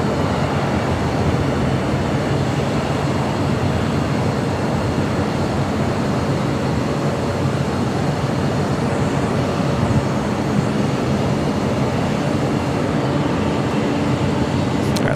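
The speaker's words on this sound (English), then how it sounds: "Next takeoff here on the south side." A jet airliner taking off from the south side runways at Los Angeles LAX airport, a loud, steady, broadband engine roar that holds throughout without a break.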